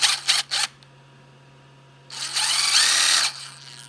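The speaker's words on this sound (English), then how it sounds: "we'll clean it up a little bit with the countersink" A countersink bit cleans up a hole in a 3D-printed part of a Tesla truck model: a few short taps, a pause, then a close whirring burst of about a second that slows as it stops.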